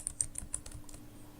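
Quiet computer keyboard typing: a handful of light key clicks in the first half second, then fading into a soft room hum, with no voices.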